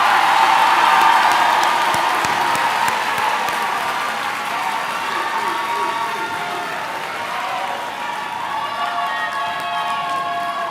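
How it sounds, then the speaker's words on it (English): A graduation crowd at a high school ceremony applauds a row of students, sustained clapping mixed with cheers and whoops, starting strongest and settling into a steady roar across a large hall. "Please join me in giving these students a round of applause."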